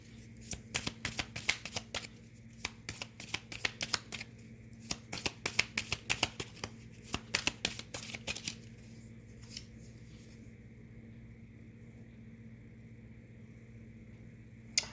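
Angel cards are shuffled by hand in a quiet room, with a quick run of crisp riffling clicks close to the mic that thins out and then stops.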